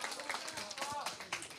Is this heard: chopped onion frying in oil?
no